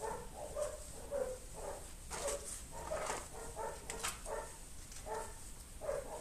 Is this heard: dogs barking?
yes